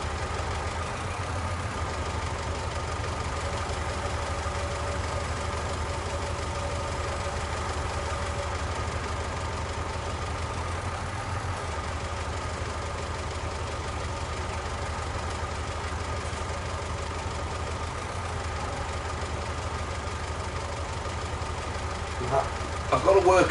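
A tractor engine idles steadily in Farming Simulator 19, a constant low mechanical drone with a faint ticking knock that runs the whole time at moderate level.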